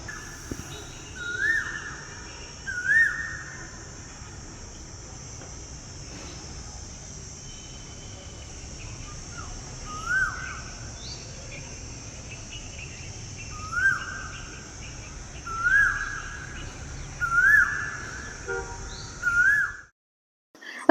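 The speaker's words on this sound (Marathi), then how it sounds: "संध्याकाळी ना खूप छान असं वातावरण झालं होतं आणि पक्ष्यांचा आवाज तर इतका गोड येत होता ना" Birds call in the evening, each giving short, sweet rising notes repeated at irregular intervals, some near and some farther off, over a constant high insect-like drone and quiet background.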